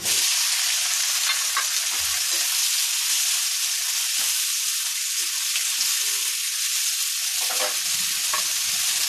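Loud, constant sizzle of onions frying in hot oil, close up, with occasional stirring clinks and no speech.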